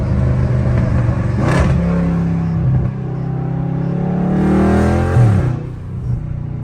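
Catless Dodge Charger Scat Pack revving hard in traffic, a loud rumbling exhaust climbing in pitch, then sharp downshifts with crackling, echoing engine drops, close and continuous with no talk.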